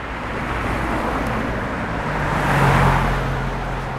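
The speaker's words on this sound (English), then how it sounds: "this is the sound of the traffic that it used to be like maybe 3-4 years ago" Road traffic near the Truckee River, a steady low rumble of vehicles with a car passing by that swells and fades around the middle, loud and continuous with some wind noise.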